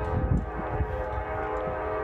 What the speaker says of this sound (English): we're supposed to get a Norfolk Southern train here shortly